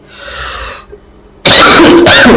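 A single loud, harsh cough up close, preceded by a faint breathy sound.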